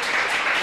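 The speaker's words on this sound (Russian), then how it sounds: "Друзья, ваши аплодисменты." Studio audience at a Russian cooking show, applauding a meat pie made by pianist Denis Matsuev, heard as a brief burst of dense clapping.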